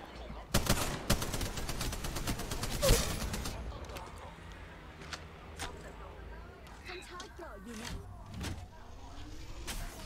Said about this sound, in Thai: ฟังนู้นมีเสียงยิงนะ